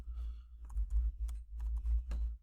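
Quick bursts of typing on a computer keyboard, soft clustered key clicks in short runs over a steady low hum, close and fairly quiet.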